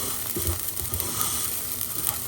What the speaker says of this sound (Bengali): এখানে আমি ভেজে নিচ্ছি, ভাজা হয়ে যাবে বুঝবো, একটু শনশন শব্দ হবে তখন।